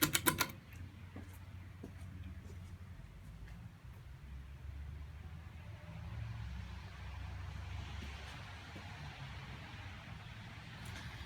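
A Harbor Breeze Calera 52-inch ceiling fan with plastic blades turns on its low setting, a little sluggish in the cold, giving a steady low whir and soft rumble with a few light clicks at the very start.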